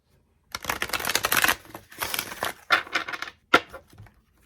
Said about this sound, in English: So I'm going to shuffle these two and take one of each.